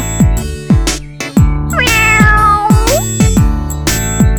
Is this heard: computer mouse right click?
no